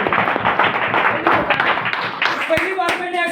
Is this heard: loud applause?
yes